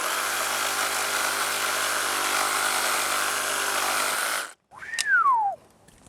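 A FLEX reciprocating saw cuts loudly and continuously through a wooden 6x6 with pilot holes for about four seconds, then stops abruptly. A brief, sharply descending whine follows.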